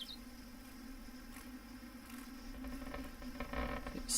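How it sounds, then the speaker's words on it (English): An insect buzzes inside a Sherlock Holmes Crimes & Punishments video game, a low steady hum under quiet game ambience that grows slightly louder toward the end, with no voices. "where's this buzz I can keep hearing?"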